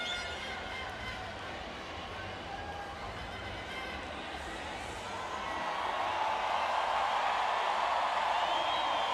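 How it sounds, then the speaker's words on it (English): A large crowd at the Rio 2016 Paralympic swimming venue cheers for Brazil's men's medley relay swimmers. The roar swells from a steady murmur to a loud, sustained cheer under a commentator's voice. "Enormous cheer for Brazil once again as Daniel Dias marches out"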